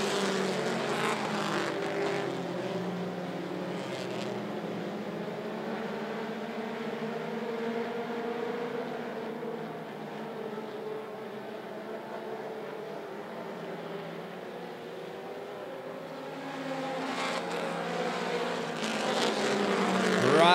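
Mini stock race cars roaring around a speedway as the field comes through turns three and four toward the green flag, a continuous loud engine drone that dips slightly in the middle and swells again near the end.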